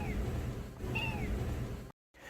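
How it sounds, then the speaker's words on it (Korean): A cat gives a faint, hoarse, barely audible meow, a short thin cry over a low background hum, ending in a brief silence. "아주 미약하게 목이 쉰 듯한 소리로 미야 이런 소리인데 거의 들릴 듯 말 듯한 소리를"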